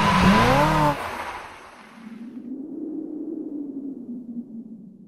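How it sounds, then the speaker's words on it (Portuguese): Intro jingle for a Brazilian car channel's van review, opening with a bright rising electronic tone and swoosh that quickly drops into a sustained low, wavering hum that fades. "Roda a vinheta!"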